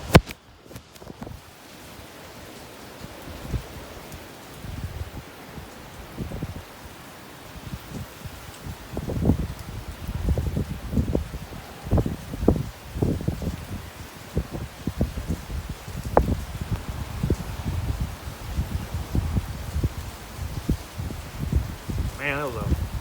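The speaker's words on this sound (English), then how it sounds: "that was a horrendous gust of wind that came through here" Strong thunderstorm wind gusts, around 60 mph, tearing through trees, with rustling leaves building into repeated loud surging bursts and buffeting the microphone, while someone talks now and then.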